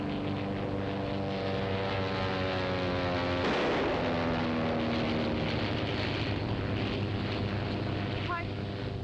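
An airplane roars past with gunfire in an old film, a loud droning engine whose pitch sweeps downward as it flies by, with a voice speaking over it.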